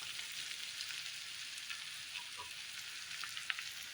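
Ginger, garlic and onion frying in a pan for a home recipe, a soft, even sizzle throughout with a faint stir or two, quiet and without speech.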